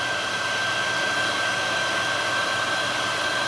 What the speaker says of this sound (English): Now for shrinking the heat shrink, I use basically a heat gun.